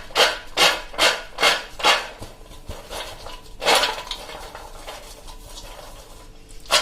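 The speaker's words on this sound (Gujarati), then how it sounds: "તમારે જો આ રીતે ઝાપટી નાખવાનું, ફોતરા એના છૂટા કરી દેવાના." Grain is tossed in a plate to shake loose its husks, giving five quick rhythmic rasping swishes, a pause, then a few more scattered tosses, close and fairly loud.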